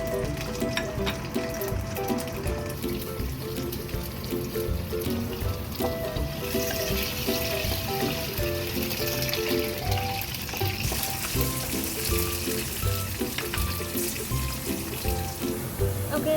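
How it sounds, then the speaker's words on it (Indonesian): Peanuts fry in hot oil in a pan for sambal, giving a steady bubbling sizzle with light crackles and occasional kitchen clinks that carries on without a break. "Kita goreng kacangnya sampai warna kecoklatan atau sampai mateng."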